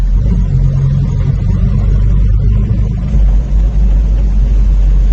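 Old Peugeot 202 car driving at about 80 km/h and braking, a steady close-up rumble of engine and road noise inside the cabin, loud and continuous with no clear change as it slows.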